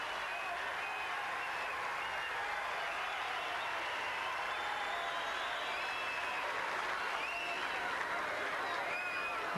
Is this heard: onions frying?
no